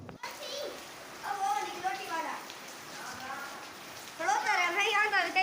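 Continuous patter of rain hisses in the background in Islamabad while children's voices chatter and call out over it.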